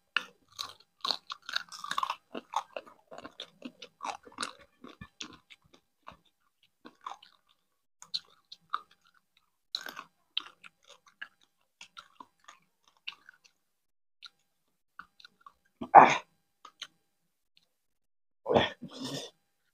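Spicy crab masala is chewed close up with scattered wet crunches and bites in irregular bursts, plus two louder, longer mouth sounds toward the end against near silence.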